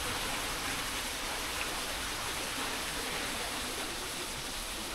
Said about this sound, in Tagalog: Itong lagasas ng tubig nito ay bandang kanan bago umakyat